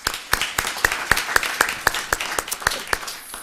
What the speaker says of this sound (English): So can you give yourself a hand of applause?